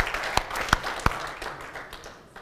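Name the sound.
audience applause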